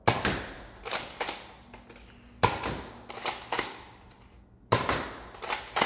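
An Adventure Force Arsenal toy blaster fires foam darts in three bursts of sharp plastic snaps, each a quick cluster of two or three shots, close and loud with mechanical clatter between volleys.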